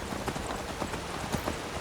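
Horse hooves clip-clop steadily in Skyrim, a quick, even rhythm of muffled hoofbeats over a dense game ambience.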